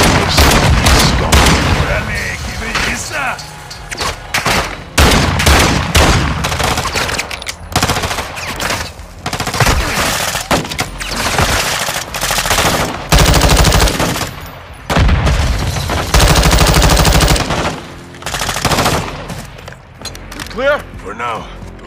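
Turret machine gun fire in the Call of Duty Modern Warfare 2 video game, loud continuous bursts with brief gaps between them, mixed with explosions and in-game voices talking.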